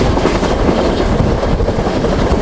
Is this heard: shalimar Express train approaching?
yes